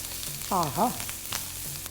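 A tempering of green chillies and small curry leaves is tossed in a hot pan with the flame off, a soft, steady sizzle close by, with a brief voice-like sound cutting in.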